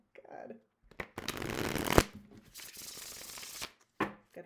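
A riffle shuffle of a deck of playing cards gives a dense, close burst of flicking card edges that ends in a sharp snap, then a second riffle follows, with a person talking briefly around it.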